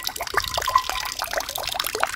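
An aerator in a large tilapia tank, running at a very low setting and splashing water: a busy patter of small splashes and trickles at close range, continuous and moderately loud, with no talking.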